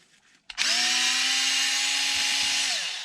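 A power driver whirs loudly and steadily for over two seconds while backing a screw out of a Traxxas XRT RC truck, starting after a brief click and winding down at the end.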